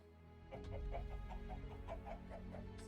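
Chickens cluck softly in Minecraft, about ten short, evenly spaced clucks in a steady run over a low background hum. Quiet, with no talking.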